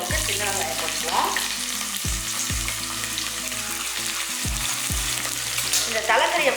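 Shallots and curry leaves frying in hot oil for goat head curry, a steady dense sizzle with several sharp stirring clanks of a utensil against the pan.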